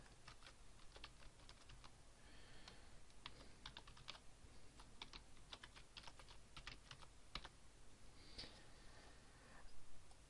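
Keystrokes on a computer keyboard as an email address is typed, quick irregular clicks in bursts across the whole stretch, fairly quiet and close, with no talking.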